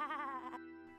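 Sheep bleat from the video game Discworld 2: one wavering, nasal bleat lasting about half a second, followed by a brief second cry at the end, clear and alone.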